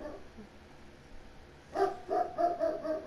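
A dog in the video game GTA 5 lets out a run of four or five loud, close barks in the second half, following a quiet stretch of low background noise.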